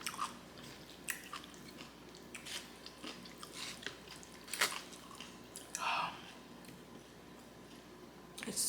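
Close, quiet mukbang chewing of kimchi, with soft wet crunches and squishy bites arriving irregularly with pauses between them, and no talking.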